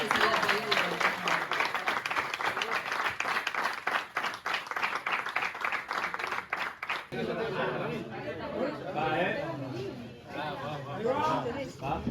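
An audience breaks into loud applause, sustained clapping mixed with crowd chatter, then the clapping thins out as murmuring voices and talk take over near the end.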